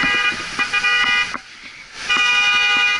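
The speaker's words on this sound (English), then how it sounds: "A car horn honks." Car horn honks at a city intersection with bike and pedestrian signals, two bursts separated by a short gap, loud and fairly near over steady street traffic.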